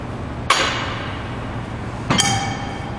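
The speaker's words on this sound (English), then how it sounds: "I'm just grabbing 35-pound plates." Two sharp metallic clanks ring out as 35-pound weight plates are handled on a hip belt squat platform, the strikes about a second and a half apart, each leaving a bright, lingering ring.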